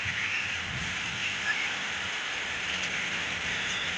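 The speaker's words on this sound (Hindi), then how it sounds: "देखिए बारिश तो बहुत तेजी से हो रही है।" Heavy monsoon rain falls hard during a stop on a train journey, a dense, even roar of drops on surfaces that stays steady and close throughout.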